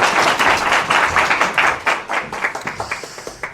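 A lecture-hall audience at Kookmin University applauds to welcome a politician. Loud, dense clapping thins over three and a half seconds into a few distinct, evenly spaced claps before fading.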